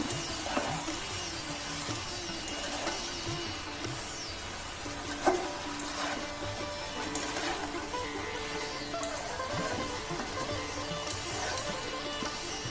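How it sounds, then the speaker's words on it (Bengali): Fish head curry with pumpkin greens being stirred and mixed in a pan, with a steady low sizzle and faint scraping throughout and one sharper clink midway, no voices. "একটুখানি নাড়াচাড়া করে মিশিয়ে দেবো"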